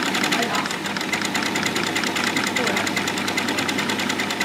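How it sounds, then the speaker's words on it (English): Small domestic sewing machine stitching buttonholes, a steady rapid motor hum with a fine repeating needle chatter running continuously at close range. "I am trying buttonholes on this little machine."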